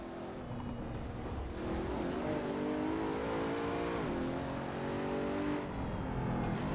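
A race car engine in the Assetto Corsa video game holds a steady, droning note on throttle and then rises in pitch as it revs, heard close and continuous without talking.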